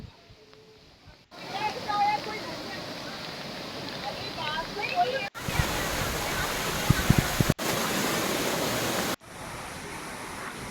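Steady broadband rush of small waterfalls in Shillong, Meghalaya, a continuous roar with no clear breaks in its texture, fairly loud and close, with faint bird chirps early on.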